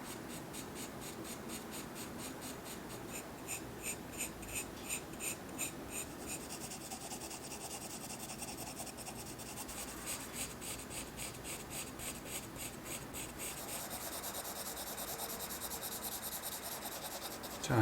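A pencil shading on paper while drawing flowers and a pot, soft close scratching strokes in rhythmic back-and-forth bursts, faint and continuous throughout.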